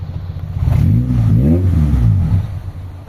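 A Honda Civic ESi engine runs close by with a low, uneven rumble, its idle wavering and sagging when the air conditioning switches on, then settling lower.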